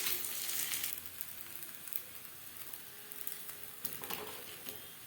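Food frying in oil in a pan after being flipped to cook the second side, a steady soft sizzle with crackling bursts and brief louder spits, fairly quiet and close, no voices.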